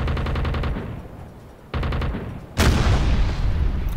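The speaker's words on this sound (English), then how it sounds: "I don't know what in God's name the skipper is shooting at" Gunfire from the submarine's deck gun in the video game UBOAT, rapid pulsing bursts of loud shots, a pause, another burst, then a heavy booming blast with rumbling echoes.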